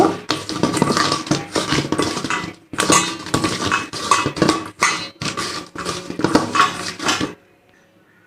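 Boal fish pieces being mixed with salt and turmeric in a vessel, giving close, clattering clinks and knocks in busy bursts that stop into near silence at the end.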